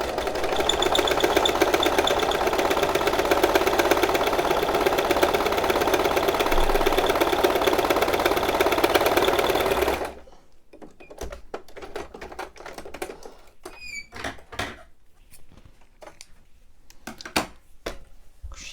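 Sewing machine running a gathering foot over fabric for an elastic-waist gathered skirt, a loud steady rapid mechanical whir for about ten seconds, then stopping into quiet handling clicks and rustles.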